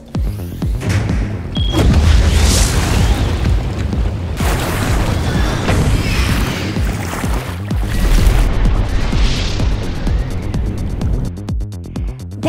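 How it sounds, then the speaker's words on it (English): Cartoon sound effect of a submarine launching a torpedo: a loud, sustained rumbling whoosh with bubbling water churn lasting about twelve seconds, with no speech over it. "submarines can launch a torpedo like this."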